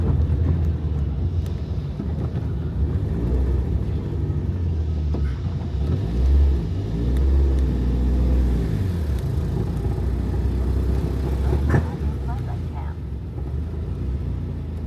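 A restored Fiat Punto GT Turbo drives along, heard from inside with a steady low engine and road rumble and a smooth rise and fall in revs partway through.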